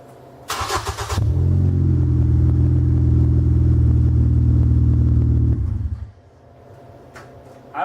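A Mercury Mariner or Ford Escape with a broken muffler cranks briefly, then starts and settles into a loud, rough, droning idle nearby for several seconds before shutting off, leaving quiet.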